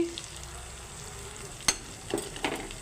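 Salt, turmeric, chili, coriander and cumin powders frying for egg curry, a steady low sizzle in the pan broken by a sharp spoon knock and a few scraping stirs near the end.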